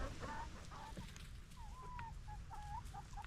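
Chickens clucking near an empty water drinker in a hoop coop, several soft, short clucks and a warbling call scattered over a low rumbling background, faint and somewhat distant.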